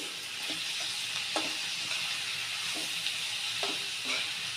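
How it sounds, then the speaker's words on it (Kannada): Curry leaves frying in hot oil for tomato chutney, a constant close sizzle with several sharp crackles and spatters, no talking. "ಈಗ ಫ್ರೈ ಆಗ್ತಿದ್ದಂಗೆ ಕರಿಬೇವು ಹಾಕೋದು"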